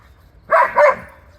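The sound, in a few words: dog barking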